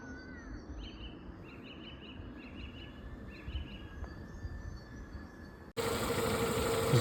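A Renault Megane 2 engine idles with a steady low rumble while birds chirp faintly in the background; the noise jumps louder near the end.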